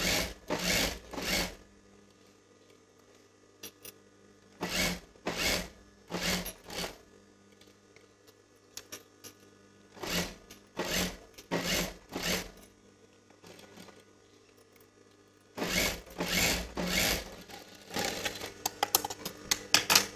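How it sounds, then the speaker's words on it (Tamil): A sewing machine stitches along canvas for a dress neckline in short whirring bursts separated by quiet pauses, each run lasting a second or two, close and fairly soft. "இந்த கேன்வாஸ் மேலே நம்ம ஒரு தையல் போட்டுக்கிட்டே வரலாம்"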